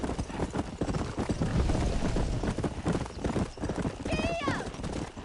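Rapid hoofbeats clip-clop in a quick, galloping rhythm, close and loud, with a horse whinnying partway through and a voice speaking over it, in the video game Mortal Kombat 1 on PS5.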